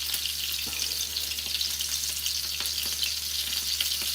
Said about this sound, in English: Now I'm just frying the meatballs